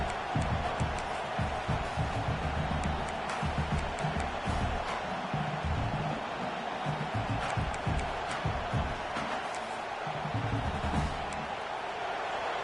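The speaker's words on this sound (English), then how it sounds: "this crowd is fired up. Listen to this noise here" A Michigan football stadium crowd roars in a constant loud wash of cheering and noise, with a commentator's voice faintly under it.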